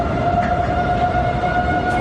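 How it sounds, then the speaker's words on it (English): Loud, steady wailing tornado sirens in Chicago hold one sustained tone throughout, like a civil defense warning siren blaring. "Tornado sirens, a rare thing in the Windy City."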